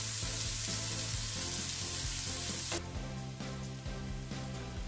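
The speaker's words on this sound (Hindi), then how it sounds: "प्याज को थोड़ी देर भुनेंगे, फिर बाकी सारे मसाले डालेंगे।" Onions sizzle loudly in hot oil in a pan for egg curry, a dense steady frying hiss that drops a little partway through, with light scraping from stirring.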